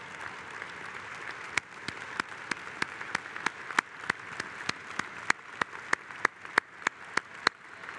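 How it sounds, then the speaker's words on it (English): Convention audience applauding retirees in a large hall, a steady wash of clapping with sharp individual claps standing out, growing denser and louder toward the end. "a round of applause."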